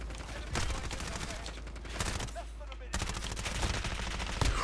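Gunfire in the video game Modern Warfare 2, including a sniper-class rifle, comes as dense bursts of rapid shots that fill the scene, loud and continuous with brief lulls.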